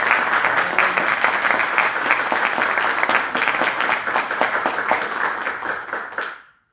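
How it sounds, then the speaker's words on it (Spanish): Strong, full applause from an audience at a law lecture welcoming a speaker, loud and continuous for several seconds before dying out abruptly. "para quien también solicito un fuerte aplauso"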